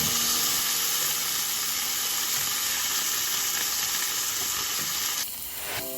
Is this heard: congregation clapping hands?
no